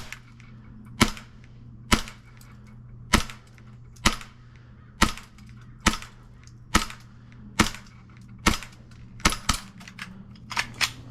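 A gas-powered airsoft gun fires about a dozen sharp, loud cracks, evenly spaced roughly a second apart with a couple coming quicker near the end, until the gas runs out; no speech.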